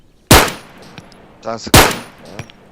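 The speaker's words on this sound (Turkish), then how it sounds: "Ben sıkıyorum hala ben sıkıyorum." Two sharp, loud gunshots from the video game Arma 3 ring out about a second and a half apart, each with a quick decaying tail, alongside a few fainter in-game clicks and clanks between them.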